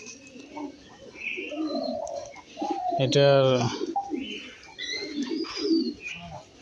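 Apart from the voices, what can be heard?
pigeons cooing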